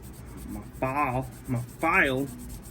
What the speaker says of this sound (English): kind of sand down on that just a little bit, just to make it smooth